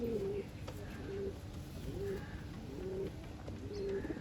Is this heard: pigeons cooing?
yes